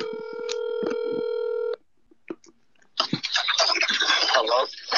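A telephone call being placed: a long run of steady electronic dialing or ringing tones, then silence, then a voice answering on the line and talking, sounding thin and close.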